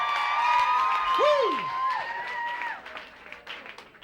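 A comedy show audience cheers and whoops loudly, with scattered clapping underneath that fades toward the end.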